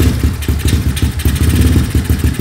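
A Kawasaki KLX 110 dirt bike engine idles close by indoors with a fast, uneven chugging putter, loud and steady throughout.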